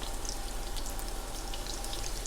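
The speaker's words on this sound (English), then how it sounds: "See how it's bubbling like crazy?" Salmon fries in a pan, giving a soft, steady sizzle with dense crackling and bubbling pops throughout, fairly quiet and with no talking.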